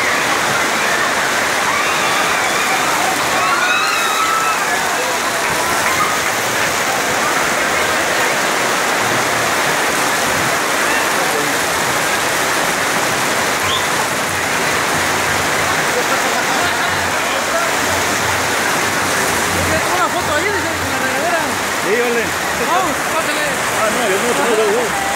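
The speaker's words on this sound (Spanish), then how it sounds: "Todo el mundo corriendo y refugiándose porque es un diluvio esto." A torrential downpour pounds down during a motorcycle ride outing, a dense, loud, unbroken hiss of heavy rain that stays constant throughout, with voices talking faintly beneath it.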